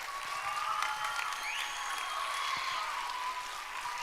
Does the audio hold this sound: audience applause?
yes